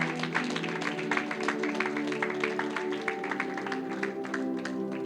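A church congregation claps in a steady, dense round of applause over sustained background music, the clapping even and continuous for several seconds.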